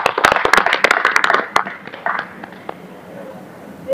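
A short round of scattered hand clapping for a speaker at a press conference, brisk at first and then thinning into a few claps and quiet room noise.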